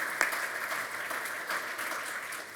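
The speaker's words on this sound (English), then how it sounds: "So have it a round of applause" Audience at a Unite 2024 tech talk on mixed reality applauding: steady, moderately quiet clapping from a room of people, even in level throughout with no talking on top.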